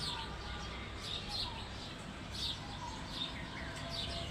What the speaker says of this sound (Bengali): অনেক পাখির কিচিমিচি শোনা যাইতেছে।